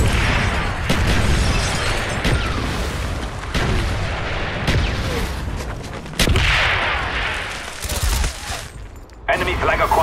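Heavy artillery strike in a multiplayer capture-the-flag video game: repeated loud booming impacts and gunfire crack over about ten seconds, with a radio-style game voice speaking in between.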